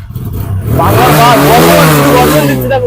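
A 2019 TVS Apache RTR motorcycle engine revs up close and loud, climbing in pitch after a brief low idle and then holding a strong, sustained roar to the end.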